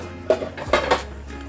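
A ladle scrapes and clinks against a cooking pot while scooping Thai tom yum soup with snakehead fish: two or three quick, close metallic knocks in an otherwise quiet kitchen.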